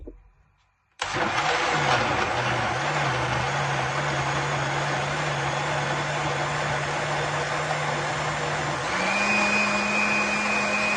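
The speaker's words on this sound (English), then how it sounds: "I'm gonna blend this." A blender whirs to life after a moment of quiet, blending half an onion and a scotch bonnet with a little water into a loud, steady motor drone that rises in pitch near the end.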